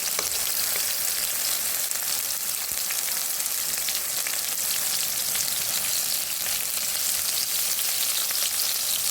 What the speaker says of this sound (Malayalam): നമ്മുടെ തക്കാളിക്ക് മുളക് എല്ലാം വഴഞ്ഞിട്ടുണ്ട്.